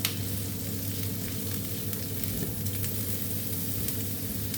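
Beef fries in a pan with a loud, constant sizzle and fine crackling spatter, close by and uninterrupted, with no voices.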